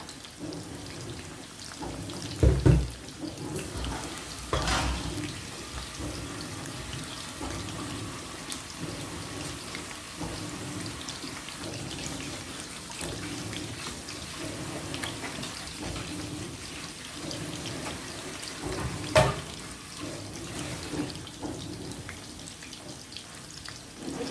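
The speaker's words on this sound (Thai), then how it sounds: "มีเสียงเครื่องซักผ้ารบกวนนิดหน่อยเนาะ" A washing machine runs with a steady wash of rushing, sloshing water throughout, with a few louder thumps and clunks scattered through it.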